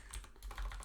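Quick keystrokes on a computer keyboard, about half a dozen light clicks in an irregular rhythm, close and fairly quiet with no talking.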